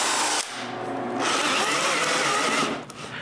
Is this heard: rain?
no